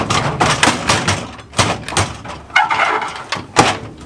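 Plastic crayon drawers in a classroom supply organizer are pulled out one after another, producing sliding scrapes and hollow thumps, close and uneven in rhythm.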